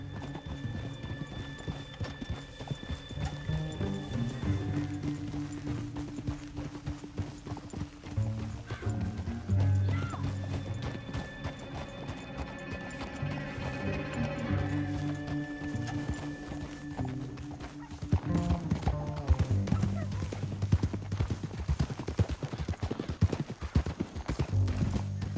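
Several horses gallop with rapid, continuous clip-clop hoofbeats and occasional neighs, loud and close, intensifying toward the end, with no speech over them.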